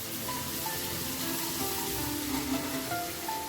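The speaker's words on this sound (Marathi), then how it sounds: "त्यात अद्रक लसणाची पेस्ट टाकायची आहे. आणि ती छान फ्राय करून घ्यायची." Ginger-garlic paste frying in a pan for a Khandeshi dal gandori bhaji, a continuous close sizzle with faint spatter and light stirring, no one speaking.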